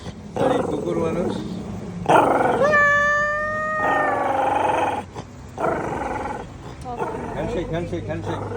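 A dog at a veterinary clinic howls in long, drawn-out wails with growling between them, loud and close, mixed with people talking nearby.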